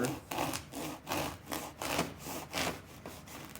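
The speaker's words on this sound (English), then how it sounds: "use my serrated knife and hold it back right on top of my mark. And I'm going to use a sawing motion" A serrated knife saws back and forth through a foam pool noodle, giving about seven rhythmic rasping strokes, close and fairly quiet, with brief pauses between each pass.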